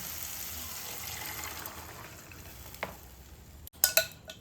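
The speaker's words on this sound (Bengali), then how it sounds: "মশলাটার সঙ্গে আমি এই ছোলা ডালটা ভালোভাবে মিশিয়ে নিচ্ছি।" Boiled chana dal is stirred into fried spice masala in a pan, a soft steady sizzle with gentle stirring, followed by a few sharp clanks of a utensil against the pan near the end.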